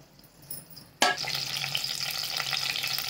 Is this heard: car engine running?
no